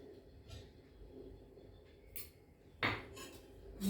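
A spoon clinks against a bowl while spices are stirred into a potato batter, giving scattered scraping taps and a sharper clatter near the end, close and fairly quiet.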